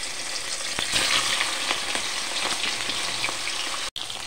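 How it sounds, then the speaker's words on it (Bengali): Pieces of fish frying in hot oil for a yogurt fish curry, a steady close, dense sizzle with small crackles and pops throughout, no voices. "এক একে মাছগুলি ভেজে নেব।"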